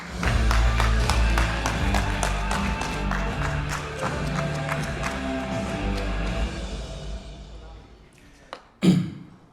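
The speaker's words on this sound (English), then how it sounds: "Lean with a big round of applause" Conference audience at a skydiving event gives a big round of applause as a speaker comes on, steady clapping with a few cheers that tapers off over several seconds before a brief knock near the end.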